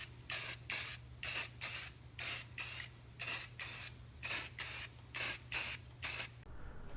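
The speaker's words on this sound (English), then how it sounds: "apply 2 coats of this primer, a light coat, wait 5 minutes and apply the second coat" Spray primer being applied in light coats to computer heat spreaders, a rhythmic series of about a dozen short, loud aerosol hisses in quick bursts with brief pauses, close up.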